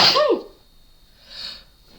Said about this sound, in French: Je sens que je vais éternuer.